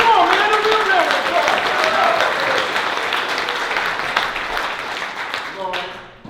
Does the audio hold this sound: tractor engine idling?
no